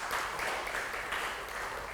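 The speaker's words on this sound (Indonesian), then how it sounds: "Tepuk tangan untuk Tuhan Yesus." A church congregation claps for Jesus during a service, giving a soft, steady wash of applause that sounds fairly distant and lasts a couple of seconds.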